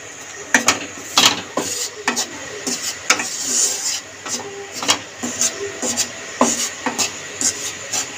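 Flour is lightly roasted in a pan for white sauce while being stirred. The result is a loud, close, rhythmic scraping with repeated sharp strokes and a steady background hum, and no voices.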